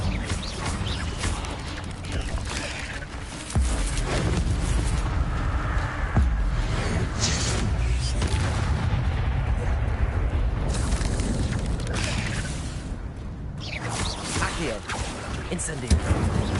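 Bursts of fiery spell impacts from Incendio casts in Hogwarts Legacy crackle and boom through dense game sounds, with a voice speaking over them throughout.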